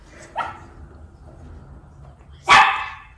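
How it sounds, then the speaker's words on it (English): Two sharp dog barks, one soft and brief near the start, then a louder, closer bark about two seconds later, with quiet room noise between. "I think Leo's barking."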